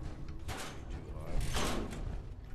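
A locked door's lock being picked in Fallout 4, with close, short metallic creaks and scraping clicks in a couple of bursts over a low ambient hum.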